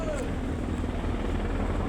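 Helicopters flying overhead in the evening make a steady, droning rotor rumble that stays constant and fairly loud throughout.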